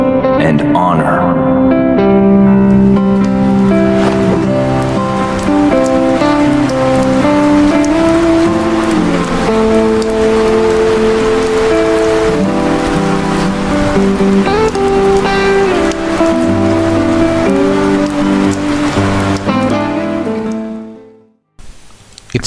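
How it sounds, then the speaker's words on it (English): Rain falls in a Final Fantasy VII Crisis Core cutscene, a steady hiss largely masked beneath loud orchestral music throughout, before fading out near the end. "It starts raining and Zack is shocked."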